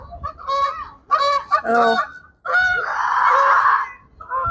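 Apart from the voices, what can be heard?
geese honking at the zoo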